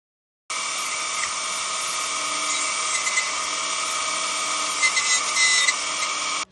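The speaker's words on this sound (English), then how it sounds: "this handheld Dremel tool, USB rechargeable battery, is going to help me grind off that piece right there." A handheld, USB-rechargeable Dremel rotary tool grinds metal on a 1987 Hunter 34 sailboat's Yanmar 3GM30F engine. It gives a steady high-pitched whine that starts abruptly, runs loud and close without a break for about six seconds, then stops.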